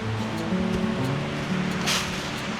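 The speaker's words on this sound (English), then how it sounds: "So this isn't a real big waterfall." Steady rushing water from a small waterfall about 10 feet high fills the scene, a constant broad roar like a small cascade, with faint low tones and a brief swell partway through.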